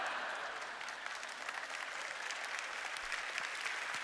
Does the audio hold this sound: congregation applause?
yes